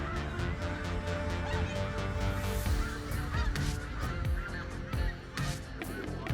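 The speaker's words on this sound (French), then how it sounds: "Ces magnifiques traînées de lumière d'étoiles filantes sont des canards sauvages qui s'envolent." A flock of wild ducks takes flight over snow, their dense chorus of honking calls overlapping loud and near, continuous and busy throughout.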